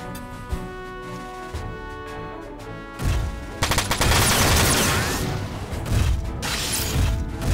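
Machine gun fire in Front Mission 4 on the PS2, loud rapid bursts and crashing impacts after a few seconds of game music, dense and continuous toward the end.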